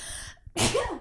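A single sharp sneeze bursts out close to the microphone after a brief breathy intake, loud and alone with no talking.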